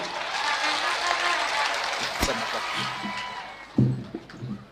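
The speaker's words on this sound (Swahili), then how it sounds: "Hebu tumpigie mbunge wangu kutoka Tarubo makofi" A crowd at a Kenyan political gathering applauds for a member of parliament, a broad burst of clapping and cheering that fades, with voices talking over and after it.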